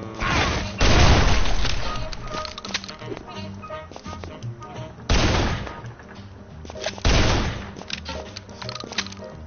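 Gunfire in the video game Guns, Gore and Cannoli, with three loud blasts spaced apart, the first followed by a rattling burst, and scattered smaller pops, impacts and game sounds between them.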